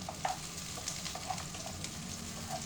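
Whole garlic cloves fry in oil in a pan, a steady soft sizzle with small pops and stirring clicks scattered through, quiet and close with no voices.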